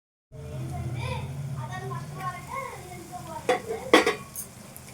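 Ridge gourd and meal maker (soy chunk) curry frying in a pan, a steady soft sizzle with scraping stirs and a few sharper utensil clacks toward the end, close by, with a voice talking over parts of it.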